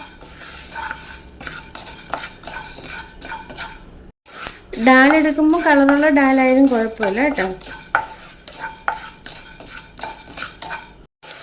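Spices dry-roasting on low flame in a pan for homemade sambar powder are stirred with repeated scraping and clinking strokes, close and fairly loud, while someone talks over part of it.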